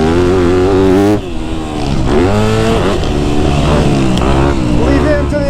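Yamaha YZ250F dirt bike engine revving hard and loud on a dry, dusty motocross track, pitch climbing and dropping through several throttle bursts, with another bike racing alongside.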